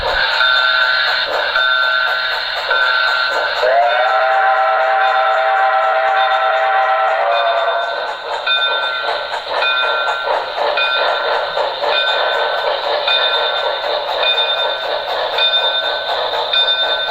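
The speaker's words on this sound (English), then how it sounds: "and Parker would have to leave the MOVRC to board the Chessie Steam Special for their trip home" The Chessie Steam Special steam train gives a loud, sustained multi-tone whistle blast, which carries into a long stretch of steady rolling rail noise and a ringing bell-like tone, heard close and alone.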